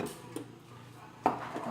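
Utensil scraping and clinking in a bowl while food is mixed with chopped green herbs, a few soft taps and one sharper clatter near the end, close and fairly quiet.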